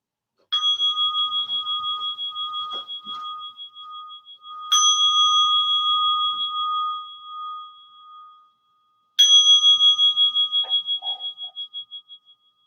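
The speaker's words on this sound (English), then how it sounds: "And I'll invite 3 sounds of the bell." A meditation bell rings three times, each clear, sustained tone slowly decaying before the next strike, with long pauses between them.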